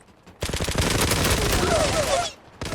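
Rapid AUG rifle fire in the shooter game Zula, loud close bursts of gunshots crackling continuously for about two seconds, with brief quiet before and after.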